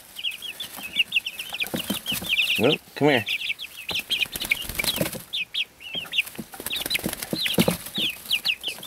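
Chirps and clucks from a pet chick kept indoors, a repeated run of high, quick peeps close by, with a person speaking over part of it.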